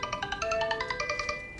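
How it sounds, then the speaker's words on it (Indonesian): A mobile phone rings in a home, playing a quick repeating electronic tune with regular beeping pulses. It is clear and alone, with no voices. "Kemudian suara ponsel kembali berdering"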